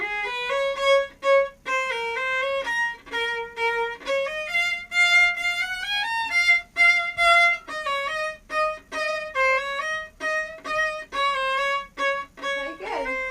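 Series of bowed violin notes, mostly short strokes, with a pitch sliding smoothly downward partway through; clear and close.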